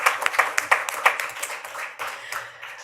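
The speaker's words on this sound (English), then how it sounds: "I will pause for applause." Applause from attendees at a public college district board meeting, a modest scattering of individual claps that starts crisp and thins out over a few seconds, with faint murmuring underneath.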